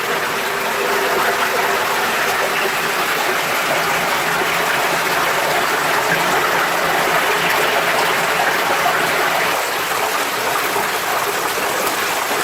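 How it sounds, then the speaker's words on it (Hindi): Water from a cave near a waterfall at Baijnath, Paprola rushes in a steady, loud, broadband roar, constant and unbroken with no talking. "ये वही गुफा होगी जहाँ से पानी की जलधारा आ रही है।"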